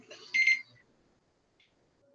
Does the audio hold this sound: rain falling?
no